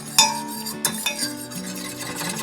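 A spoon stirs sugar into warm beet juice in a pot on the stove, with a few clinks against the pan and steady scraping, no talking.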